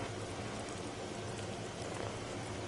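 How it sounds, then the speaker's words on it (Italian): Rain in the video game ELEX: a steady, dense hiss of rainfall, unbroken and even throughout, with no voices over it. "Pioggia, ancora pioggia, ancora pioggia."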